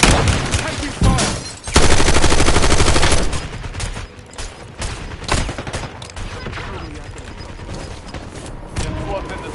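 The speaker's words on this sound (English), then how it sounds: "Taking fire." Heavy Call of Duty Warzone gunfire rattles up close in rapid automatic bursts, then breaks into scattered shots and thuds.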